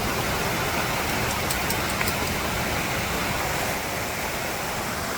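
Floodwater from Hurricane Helene rain rushes through a normally small creek, a loud, steady broadband roar of churning water that continues without a break from start to finish.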